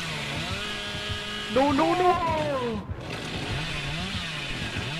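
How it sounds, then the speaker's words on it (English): A chainsaw in the video game Dead by Daylight buzzes with a steady, revving drone that swells briefly and then settles, with voices talking over it. "he's at the top of the stairs with his chainsaw"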